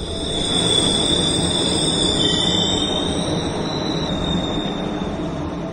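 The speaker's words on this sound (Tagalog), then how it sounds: "Hanggang sa dumating na ang huling biyahe ng tren at huminto ito." A train rolls past loudly and steadily, its wheels giving off high, sustained squeals over a heavy rumbling roar.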